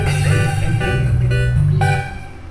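A deep, sustained synth bass preset from G-Stomper Studio on an Android phone drones under layered electronic harmonics, steady and loud before fading slightly near the end.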